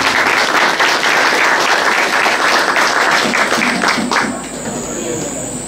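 An audience applauds at a school inauguration hosted by UNICEF, a loud, dense wash of clapping that thins and fades toward the end, with a faint high whine lingering beneath.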